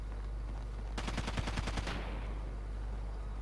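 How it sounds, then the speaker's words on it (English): Rapid automatic gunfire in Rainbow Six 3, a single burst of about a dozen quick shots lasting around a second, moderately loud over a low steady background hum. "Why are we firing?"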